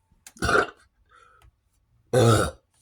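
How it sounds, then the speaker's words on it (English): A person lets out two loud, close burps, the second deeper and longer, with a short faint sound between them in an otherwise quiet room. "Ugh, I got a burp."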